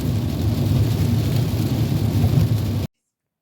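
Heavy rain pours down on a gloomy day in a loud, dense, continuous roar of water with a deep rumbling undertone, close and steady until it cuts off abruptly.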